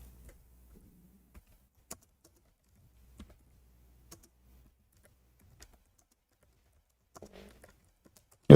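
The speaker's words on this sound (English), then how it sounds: "Oh, we are typing," Sparse typing on a computer keyboard, with isolated key clicks spaced a second or so apart and a short flurry near the end, quiet and close in an otherwise silent room.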